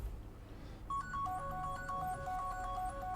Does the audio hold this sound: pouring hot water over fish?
no